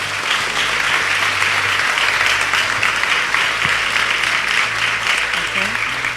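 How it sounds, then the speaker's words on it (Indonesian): A church congregation claps together in a loud, steady burst of applause that fills the room evenly from start to finish, with faint voices and a low hum underneath. "Kita beri tepuk tangan."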